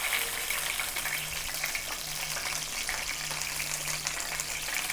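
Washed curry leaves crackle and sizzle in hot frying oil, readied for frying karimeen fish, a dense steady fizz with scattered pops and no talk.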